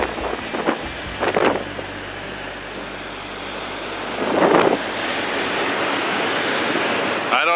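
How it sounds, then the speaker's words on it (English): Aboard a ferry on rough seas off Haida Gwaii, a steady roar of wind and surf fills the background, with a few louder bursts of waves and wind buffeting the microphone. "since I last talked to you, the seas have become quite worse"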